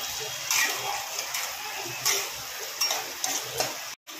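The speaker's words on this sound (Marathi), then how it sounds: "आणि या भाज्यांचा कच्चा वास जाईपर्यंत आपल्याला फ्राय करायचा आहे" Cabbage, capsicum, peas, carrots and beans frying in a pan: a steady close sizzle with soft ticking spatters and occasional stirring scrapes, briefly cutting out near the end.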